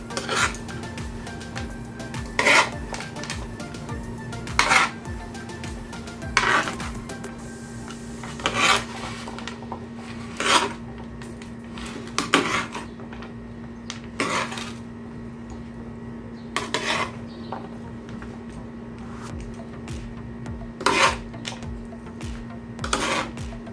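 Chickpea chaat ingredients being stirred together in a metal pot, with repeated scraping and clinking strokes at an irregular rhythm against a steady low hum, close and moderately loud with no talking.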